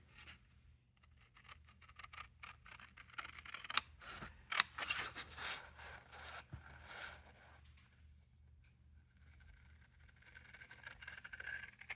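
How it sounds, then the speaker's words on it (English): Paper being cut freehand with scissors while making a card from scrap papers, heard as a soft, steady run of snipping and scraping close by, with no talking. "I'm just gonna freehand cut it."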